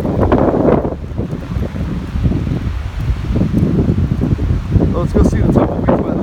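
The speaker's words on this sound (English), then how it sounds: "Oh yeah, it's so windy over here." Strong, gusty wind at Big Bear Lake buffets the microphone with a continuous loud rumble and rustle, rising and falling throughout with no clear break.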